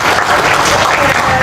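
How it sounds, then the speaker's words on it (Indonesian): Loud, dense applause from a crowd at a political rally, a continuous burst of clapping close by. "Tepuk tangan sekali lagi untuk beliau"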